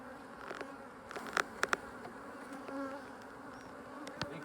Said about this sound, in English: So we're going to shake these bees off.